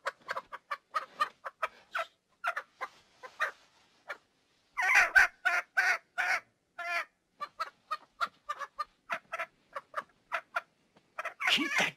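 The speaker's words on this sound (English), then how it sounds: "Keep that damn chicken quiet." Chicken clucking in a run of short, busy bursts with brief pauses, a louder flurry near the middle and again at the end, heard alone with no talking.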